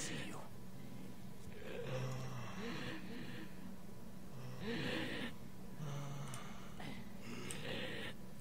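Monsters in the RIFT video game breathe heavily, with several drawn-out rasping gasps and snorts rising and falling in slow waves over a steady background hum.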